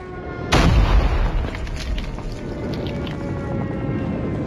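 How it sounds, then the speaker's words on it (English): In the Call of Duty Mobile shooter, an airstrike hits with a sudden loud, deep boom followed by rumbling debris and a lingering low roar that slowly fades, with no talk over it. "Enemy airstrike incoming."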